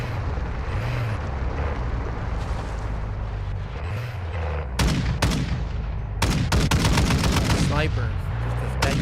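Gunfire in the DMZ video game as a player shoots at a window, with bursts of rapid shots arriving in clusters near the middle and end amid steady game noise and distant aircraft hum.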